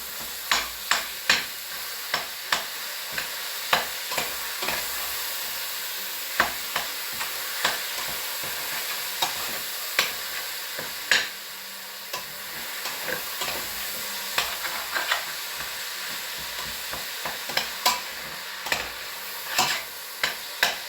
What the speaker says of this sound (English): Make sure you're constantly stirring and that the meat's not sticking to the bottom